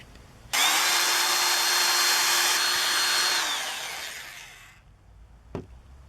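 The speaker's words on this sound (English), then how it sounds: "we're going to drill a hole up through the center of it." Power drill boring a hole up through the center of a Halloween prop skull: a loud close whine that starts abruptly, holds steady for about three seconds, then winds down, followed by a short knock.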